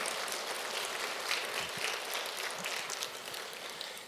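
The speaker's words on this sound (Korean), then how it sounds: "우리 하나님께 박수를 하면 영광 올리겠습니다." A church congregation claps steadily and evenly throughout, a dense wash of applause heard from within the room.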